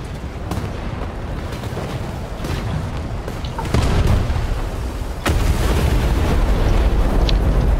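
Bombs exploding in a World War II-style air combat video game, heard as a loud, steady roar of rumbling blasts and booms that gets heavier partway through, with no voices.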